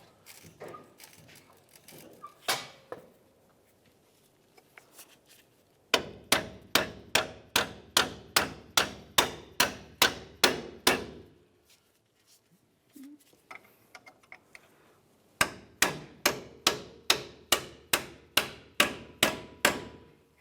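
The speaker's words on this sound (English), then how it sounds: "we'll continue on to driving out the mounting bolt" Steady hammer blows drive a front strut mounting bolt out on a 2005-2010 Dodge Dakota, ringing metallic strikes coming in two rapid close bursts of about a dozen hits each after a few scattered taps.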